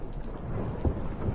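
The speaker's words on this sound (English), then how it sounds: "Didn't bargain for no storm." Thunderstorm aboard a boat: steady rain hiss with a low rumble of thunder swelling near the end, moderately loud and continuous, with no voices.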